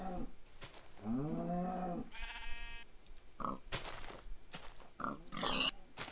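Pigs in the Minecraft video game grunt and squeal in quick, close bursts that stand out over faint in-game background sound.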